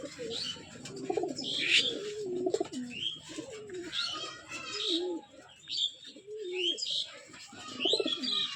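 Rajshahi Giribaz pigeons coo repeatedly nearby in a loose, overlapping rhythm, with a few chirps mixed in and faint background voices.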